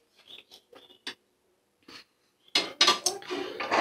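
A cooked dish is scraped and tipped out into a serving dish, with scattered light clinks of a spoon on metal followed by a louder, dense run of scraping and clattering pot sounds close by.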